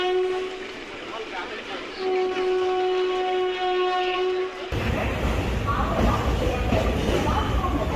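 A passenger train hauled by a WAP-4 electric locomotive at Vijayawada railway station sounds a long, steady horn. Loud, continuous rumbling and rolling noise from the train follows.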